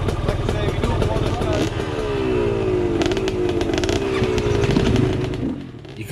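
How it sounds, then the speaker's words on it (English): A GPX 250 two-stroke motorcycle running while ridden up a hill on a trail ride: a close, buzzing engine note that rises and falls through the revs under someone talking. "You can probably hear that I'm on a two-stroke. It's a GPX 250 two-stroke"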